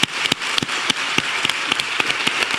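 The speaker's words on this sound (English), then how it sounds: "Let's give a big applause for her." Audience applause for a student at a Nobel Peace Prize-winner's talk: a continuous wash of many hands clapping, with several sharper, louder claps standing out at irregular intervals.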